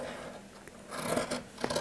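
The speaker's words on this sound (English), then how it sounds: "Cut along the marking," Scissors snip through fabric along a marked line while cutting a piece for a sewn bucket hat, giving a few quiet, close crisp cuts and rasping slides in a short burst.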